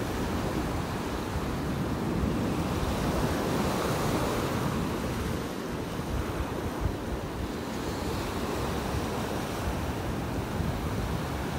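Gulf of Mexico surf on a flat sandy beach in North Naples, Florida, a constant wash of breaking waves close by, with gusty wind rumbling across the microphone.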